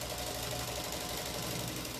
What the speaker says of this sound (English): this is kind of a lot of fun to try and feed through a machine